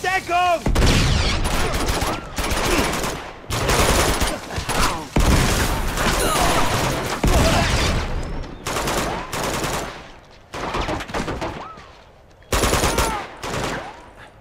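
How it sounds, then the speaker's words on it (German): Dense bursts of automatic gunfire from the video game Uncharted 2 rattle loudly in long volleys separated by brief pauses, with sporadic single shots and impacts between them. "So, wir schießen da."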